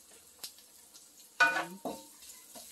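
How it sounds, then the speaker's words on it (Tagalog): Tomatoes are stirred into a pot of sardine soup with vegetables, giving a few short scraping, wet clatters and a brief sizzle in a quiet kitchen, with the loudest burst in the middle. "Gusto kong ihalo yung aking napakaraming tomato."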